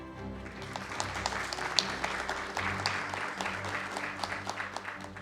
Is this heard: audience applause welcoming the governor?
yes